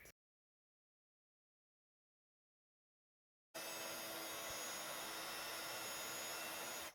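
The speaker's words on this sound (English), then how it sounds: "And then I'm going to heat emboss there." A heat embossing tool blows hot air to melt embossing powder on a handmade card: silence, then a loud, steady fan whoosh that starts abruptly halfway and runs on without change.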